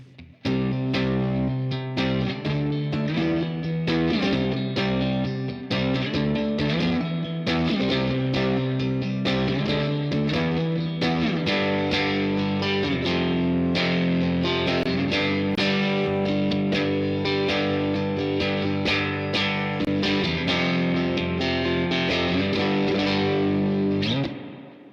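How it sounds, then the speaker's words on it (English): A VOX AC10 amp pushes a distorted, reverb-soaked surf rock electric guitar, with sustained chords and picked notes ringing continuously and loudly with no talking. "So here is a little bit more of a distorted reverb sound."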